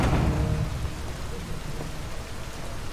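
Heavy rain in the video game Detroit: Become Human hisses steadily, with a low rumble beneath it, loud and continuous from start to finish without any talking.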